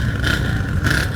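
A Yamaha XS cafe racer motorcycle engine revs loudly and close by on city streets, its raspy drone surging twice over a steady idle.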